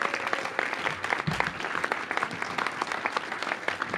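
Audience applause at the opening of the West End Library in Washington, D.C.: steady, dense clapping from a sizable crowd, moderately distant and even throughout, with no talk over it.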